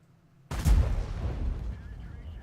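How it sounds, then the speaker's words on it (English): A single loud tank cannon shot in a tank video game bursts out abruptly, followed by a rumbling, decaying boom and lingering battle ambience. "Puts a shot right into the side of the 121."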